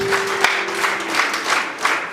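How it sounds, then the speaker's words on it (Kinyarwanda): A church congregation applauds together, a dense, fairly loud wash of clapping with recurring pulses of louder claps and a faint sustained tone beneath it early on. "ukomere Imana yo mu ijuru amashyi."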